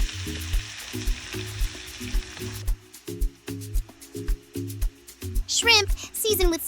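Onions frying and being stirred in a pan for shrimp and lobster Alfredo pasta, with rhythmic low thumps and scraping strokes under a steady sizzle, ending in a brief burst of higher chatter or clatter.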